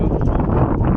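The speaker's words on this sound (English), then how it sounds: "It's too windy." Steady, loud wind buffeting the microphone near Rameshwaram, a continuous low roar with gusty swells throughout.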